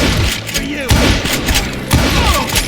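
Repeated gunfire from hired guns in the Western shooter Call of Juarez: Gunslinger, loud bursts and thuds stacking over one another under a dense mix of game sound.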